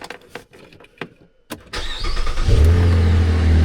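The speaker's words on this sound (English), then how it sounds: "So now we're going to fire the car up." A car engine on a new battery and alternator, after a few faint clicks and handling sounds, cranks briefly and fires quickly, then settles into a loud, steady idle with a deep rumble.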